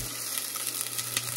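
Food sautéing in a pan with pork in the mix, a close, continuous sizzle and crackle with a steady low hum underneath.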